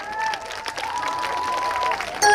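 Applause from an audience at an outdoor community festival concert, steady and fairly full, continuing for a couple of seconds with no voices over it.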